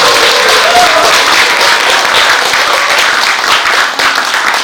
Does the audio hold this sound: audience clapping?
yes